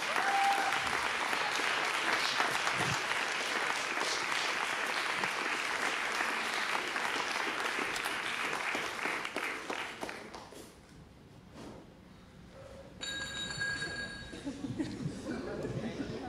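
An audience in a large hall at an awards gala in Gdańsk's Stary Maneż claps loudly and steadily, then the applause thins out into scattered claps, footsteps and murmuring voices near the end.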